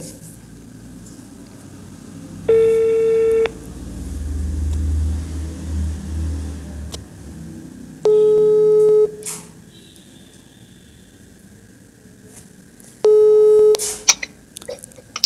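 Three short bursts of a repeating electronic busy tone, evenly spaced, over a low background hum with faint rustling between them.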